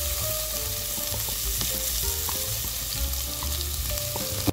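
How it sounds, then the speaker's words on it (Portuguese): Chopped onion frying in leftover bacon fat in a pan, a steady loud sizzle and crackle with occasional pops and light stirring, alone without talk. "Nessa mesma gordura aqui, vamos fritar a cebola."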